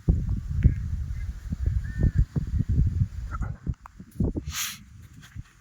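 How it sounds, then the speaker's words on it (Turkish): Ducks quacking and honking outdoors, a cluster of short calls at moderate distance with a brief higher squawk near the end. "Ördekler var."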